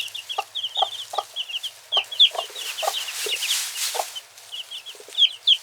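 A mother hen clucks in short, repeated bursts while her chicks squawk and peep in quick, high chirps all around her, close by and lively.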